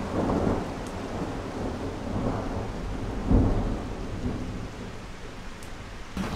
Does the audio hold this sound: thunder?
yes